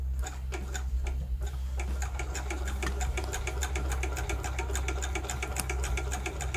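A vintage Singer 66K sewing machine runs steadily and loudly close by, its needle ticking in a fast, even rhythm over a low mechanical hum throughout, with no voices.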